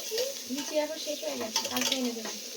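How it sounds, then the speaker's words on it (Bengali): Shrimp and puffed-rice ghonto ingredients are stirred and fried in a pan, giving a close, steady sizzle with scraping stir strokes throughout and occasional light clinks. "এটা একটুখানি ভাজা ভাজা করে নেবো"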